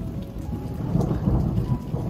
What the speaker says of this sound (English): Sounds of thunder have not stopped